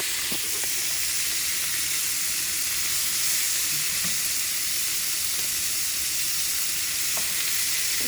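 Ground meat frying in a pan after taco seasoning is stirred in, giving a loud, continuous sizzle and hiss with a few faint scrapes of stirring, close and steady throughout.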